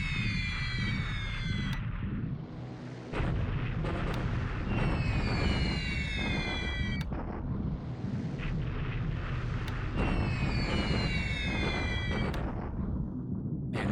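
Bombing in the World War II Pacific wargame War in the Pacific, over rough terrain in bad weather: a continuous loud roar of blasts and rumbling with repeated whistling sweeps layered on top.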